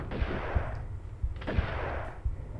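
Gunfire in the game Tomb Raider 2, a series of heavy booming shots at irregular intervals, each with a rumbling low tail, with no talk over them.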